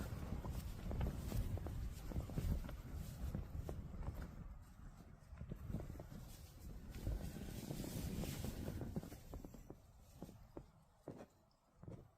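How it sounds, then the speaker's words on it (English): Faint gusty wind buffets the microphone with low rumbling bursts, along with scattered knocks and thuds, quiet and distant overall. "I know it's windy, but"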